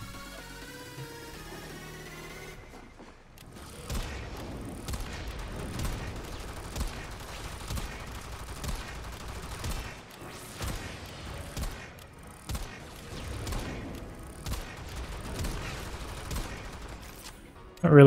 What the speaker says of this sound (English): And its alternate fire is basically a semi-automatic.